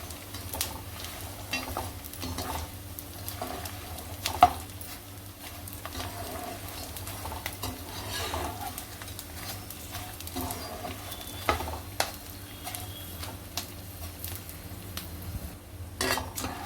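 Edible gum (dink) frying and puffing in a pan of hot fat for methi dink ladoo, a steady soft sizzle and crackle with occasional stirring clinks of a utensil against the pan, moderately quiet throughout.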